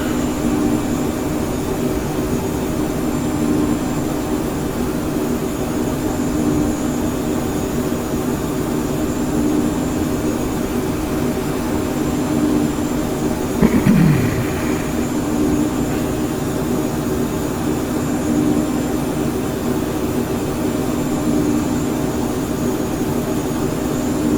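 The Embraer Phenom 100 business jet's engines drone in a steady, loud, unbroken roar during a climb in Microsoft Flight Simulator in VR, with one brief blip partway through.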